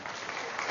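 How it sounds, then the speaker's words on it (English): A short burst of audience applause after a mental math answer at a live show, soft and fairly distant, an even wash of clapping without clear individual claps. "Give yourselves a nice round of applause."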